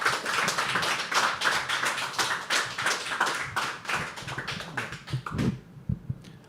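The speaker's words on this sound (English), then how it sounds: "can we have a nice round of applause for Rahul?" Applause from an audience at a live poetry open mic, a dense crowd clapping steadily for several seconds before it thins out and stops near the end.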